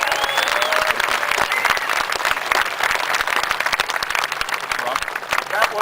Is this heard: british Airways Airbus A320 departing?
no